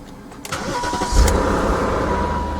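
A tuned BMW M5 fitted with a Shark Injector cranks and fires up, settling into a steady, loud idle close by with no voices.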